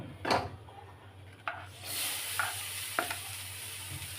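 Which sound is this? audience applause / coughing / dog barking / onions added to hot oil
onions added to hot oil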